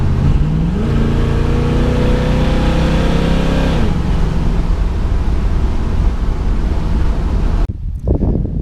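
A Dodge Dart's engine cranks and catches, then revs hard with rising harmonic tones before easing back to a loud, steady idle; close and raw, with wind buffeting the microphone near the end.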